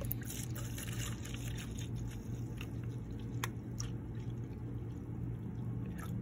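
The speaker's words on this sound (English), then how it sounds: "So we're gonna do 400 mils diesel." Diesel fuel, about 400 ml, poured steadily into a container while mixing a homemade engine treatment, a continuous close liquid gush lasting several seconds with no talking.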